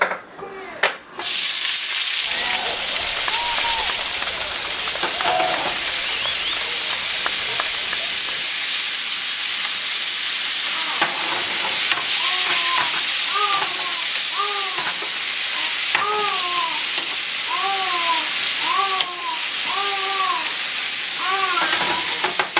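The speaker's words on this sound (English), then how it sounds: "So here we're going to saute these vegetables a little bit before we put in the asparagus and the shrimp." Vegetables sauté in a hot pan ahead of shrimp and asparagus, giving a steady sizzling hiss throughout with repeated scraping and stirring strokes toward the end, close and fairly loud.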